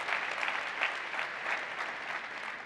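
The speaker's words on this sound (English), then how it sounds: "Everybody give him a warm round of applause." An audience at a Windows 10 deployment tech event welcomes a guest onto the stage with warm, steady applause, a continuous crowd of clapping heard at moderate distance with no talking.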